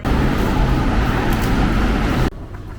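Loud, steady rumble of a Los Angeles metro train running continuously, then cutting off abruptly near the end to a much quieter hum.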